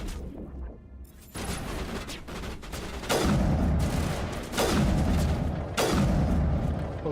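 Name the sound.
gunfire from headshots in the video game Mass Effect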